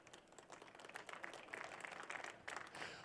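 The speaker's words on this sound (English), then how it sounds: "Always glad to see our legislators clapping at that one." Legislators clap at a city's annual State of the City address, a faint, scattered patter of applause from a modest crowd, steady and without voices.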